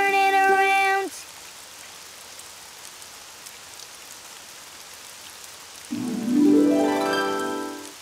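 Steady rain falls outdoors in a cartoon as a soft, even hiss, framed by short musical tones at the start and end.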